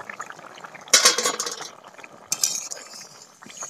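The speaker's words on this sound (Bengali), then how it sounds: "এখন আমি ঢাকনাটা তুলে দেখবো।" A cooking pot's lid is lifted off while cauliflower and eggs are being cooked; two bright metallic clatters ring out close by, the first longer and jangling, the second shorter, with quiet kitchen rustling between them and no talk.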